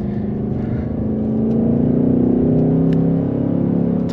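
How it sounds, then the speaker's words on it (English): A 2024 Ford Mustang GT Premium with a 5.0L V8, automatic transmission and sport exhaust, a deep steady engine drone that rises slightly as the car accelerates, heard from inside the cabin. "I love the power, the sound, engine sounds fantastic. This sport exhaust sounds really, really good."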